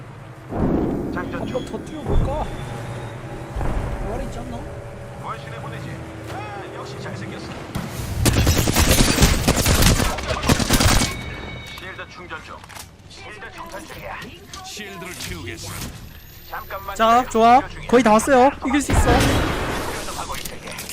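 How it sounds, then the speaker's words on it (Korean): Gunfire rattles through a battle royale video game, with dense bursts of shots and booming blasts in two loud clusters, mixed with voices and game sounds between them. "지금 나한테 총 쏘는 거야"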